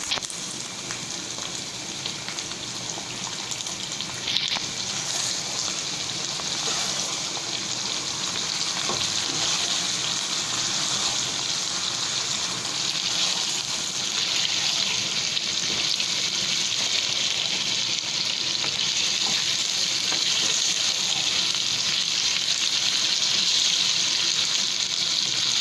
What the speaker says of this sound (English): Now I'm gonna add the yogurt.